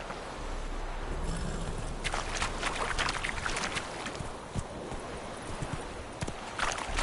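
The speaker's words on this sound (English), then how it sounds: "Whoa there, Roach." Horse hooves clip-clop across the ground in The Witcher 3, irregular soft thuds mixed with rustling ambience, moderately quiet and alone without talk.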